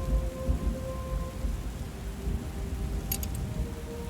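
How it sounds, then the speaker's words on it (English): Stormy ambience from the game Book of Hours: a steady low rumble of thunder and heavy surging water, continuous and fairly loud, with a few faint tonal hums and a brief clicking near the end. "The cold comes first. Thunder growling, waves pounding"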